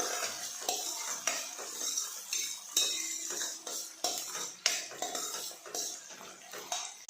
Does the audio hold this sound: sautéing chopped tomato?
yes